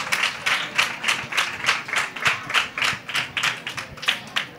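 Rhythmic clapping for a model in a flamenca dress at a fair fashion show, a steady regular beat of a small group's hands, close and fairly loud, with no talking.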